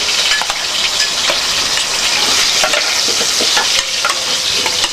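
Onion, garlic and bell pepper frying in a pot, a loud continuous sizzle broken by repeated scraping and clacking of a spoon stirring, close up, no talk.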